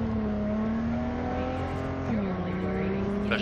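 In the game Cyberpunk 2077, a car engine holds a steady, heavy drone at high revs, then drops in pitch at a gear change, loud and close throughout, with faint speech underneath.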